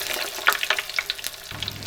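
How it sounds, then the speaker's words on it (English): Sweet potato chips deep frying in a deep fryer outdoors, a steady crackling sizzle with small bursts and pops throughout, close and fairly loud, no talking. "So I'm going to throw them in the deep fryer and have them with my burger."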